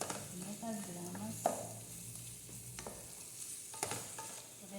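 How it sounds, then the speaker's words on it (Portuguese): Shrimp sautéing in a pan for a Pará-style shrimp vatapá, giving a quiet, steady sizzle with a few scattered scrapes and clinks from stirring, and no voices. "Vou deixar dar mais uma refogadazinha."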